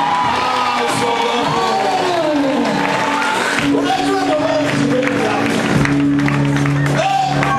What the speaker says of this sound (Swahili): Pigia Mungu makofi kabisa.